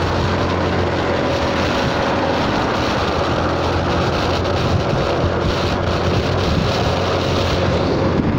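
Hot wind rushing past a rider on a Honda Forza 300 scooter, a constant loud roaring buffet across the microphone with no breaks and no voices.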